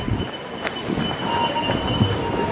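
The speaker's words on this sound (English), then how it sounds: "Look, they've even got double decker trains." A double-decker train at an Amsterdam railway station, rolling wheels with a thin sustained squeal and faint clicks, moderately close against station ambience.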